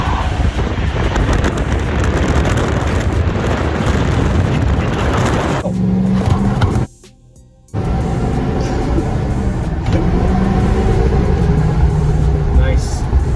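A GM Denali diesel truck accelerating, its loud, steady engine and road roar heavy with wind rush, cutting out briefly before resuming just as strongly.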